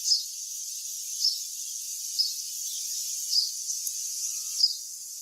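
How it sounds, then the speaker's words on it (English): Birdsong chirps in short repeated bursts, heard faintly behind a steady high drone from nearby Amazon data centers, with no talking. "hidden behind the drone of the data centers, there is birdsong."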